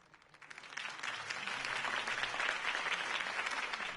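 A crowd in a Batman video game bursts into sustained applause after a campaign speech, rising quickly after a quiet start and holding steady with dense, continuous clapping.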